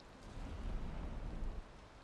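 Rain falls in the video game Valheim, a soft, steady hiss of low rumbling patter that holds quietly for about two seconds with no voices.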